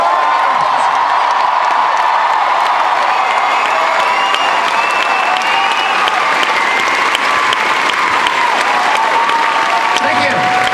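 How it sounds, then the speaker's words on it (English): A large crowd at a Firefly 10th anniversary convention panel applauds continuously and loudly, with scattered cheers and whoops mixed into the dense clapping throughout. "One more round of applause for all of them up here."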